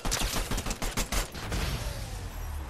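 Rapid bursts of gunfire in the Fortnite video game, a loud run of closely spaced shots followed by a rumbling, noisy tail.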